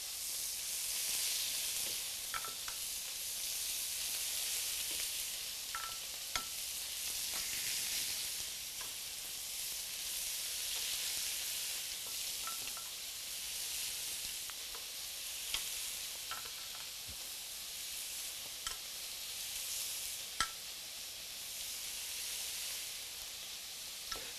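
Boar pork searing in a hot pan for an Italian braise, giving a steady, bright sizzle that runs without a break, with faint pops and spatters scattered over it.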